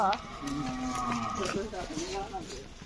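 A cow, a livestock animal kept for the Qurbani sacrifice, lets out a long, loud, drawn-out moo close by, its low tone wavering and bending through most of the moment.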